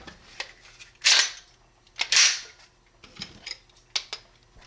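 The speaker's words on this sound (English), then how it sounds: "Let's go ahead and test the triggers. Let's do the Glock first." Dry-fire trigger pulls on a Glock 45 pistol, a few sharp close clicks spaced about a second apart with fainter handling ticks between.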